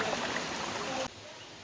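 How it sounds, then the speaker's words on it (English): Agura Falls, a waterfall near Sochi, gives a steady, broadband rushing roar of falling water at close range, which cuts abruptly to a quieter, duller wash partway through. "These are called Agura Falls."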